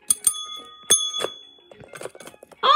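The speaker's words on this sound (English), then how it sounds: "Oh, well, why not have this bell?" A bell rings in a video game, with a few bright metallic dings and short chimes scattered across the moment, clear and close among other clicking game sounds.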